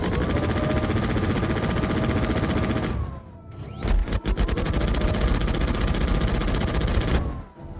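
Rapid Referral Gatling fire in the space combat game Starlancer, a loud continuous mechanical stream of rounds with a brief pause near the middle before the firing resumes and runs on steadily.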